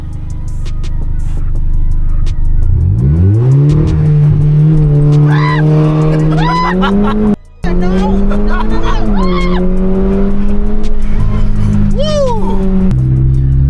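A BMW M2 with a compound-turbo N55 engine revs up and launches on the street, the pitch climbing steadily through gear changes with brief breaks and turbo whooshes, loud and close, voices under it.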